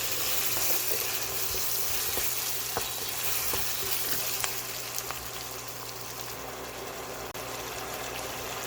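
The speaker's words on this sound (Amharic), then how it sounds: "እንዲህ ሽንኩርቱ ጥብስ እያለልኝ እያለ አብሮ ካሮቱ ጥብስ እንዲል" Chopped onions and carrots fry in a pan for a vegan Ethiopian cabbage and beet dish, giving a steady, close sizzle with scattered small crackles and pops throughout, with no voices.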